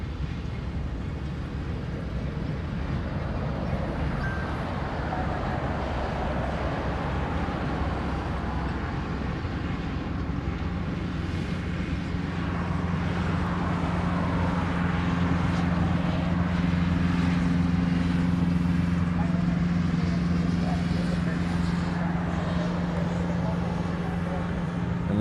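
A Boeing 717 jet departs the reef runway at Honolulu, a steady distant roar that slowly swells and holds, with someone talking over it.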